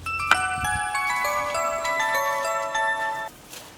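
A phone rings with a bright melodic ringtone, a sequence of sustained tinkling tones playing close and clear for about three seconds with no talking, in a Maithili comedy set at home.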